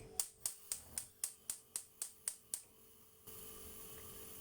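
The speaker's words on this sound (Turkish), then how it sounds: "Ocağımızın altını açalım." Rapid, evenly spaced clicks from a gas stove igniter, about ten sharp ticks, then a soft steady whoosh as the burner catches.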